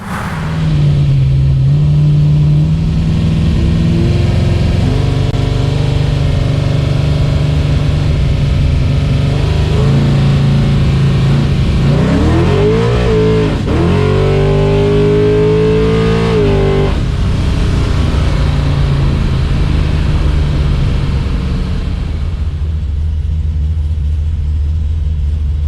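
A Chevrolet S10 fitted with a 400 cubic inch small-block V8 rumbles loudly up close, idling deep before revving and pulling away, its pitch rising and falling through the gears, then settling back into a steady drone.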